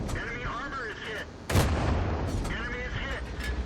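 A single loud tank gun shot in World of Tanks, a sudden broad blast that rolls off into rumbling battle ambience and engine drone.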